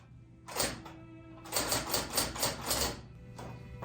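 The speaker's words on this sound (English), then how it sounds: "I would type out my new office hours for next week on an index card using one of the typewriters in my office." Typing on an older electric typewriter used to type up an index card: a short burst of key strikes, a pause, then a longer run of rapid clacking with rhythmic pulses over a constant motor hum, nearby and clear.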